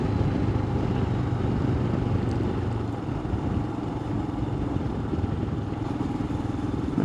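A Royal Enfield Himalayan motorcycle cruises in 4th gear, its engine a steady, loud, continuous drone with wind rush and no break or talk.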